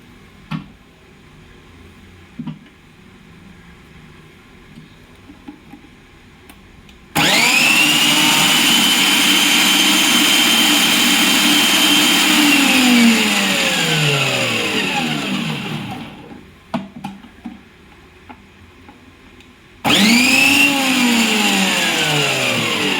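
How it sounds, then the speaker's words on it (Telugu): A food processor grates cauliflower pieces with a loud, steady motor whine that runs for several seconds, winds down, then starts up again. "ఈ పీసెస్ అన్నిటినీ ఇప్పుడు మనం ఫుడ్ ప్రాసెసర్లో వేసి తురుము పట్టుకుందాము"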